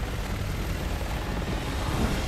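Helicopter from the video game Resident Evil 6, a steady loud rotor and engine roar filling the whole clip with no talk over it.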